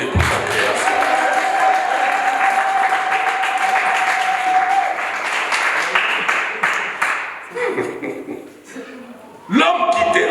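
Congregation applauding during a religious wedding ceremony, a loud sustained wave of clapping and cheering that fades after several seconds, with a voice speaking over the crowd near the end.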